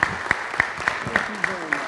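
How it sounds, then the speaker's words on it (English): A crowd at a holiday event applauds Santa, giving a brisk, steady burst of many hands clapping at close range, with regular louder claps standing out. "Let's give Santa a round of applause"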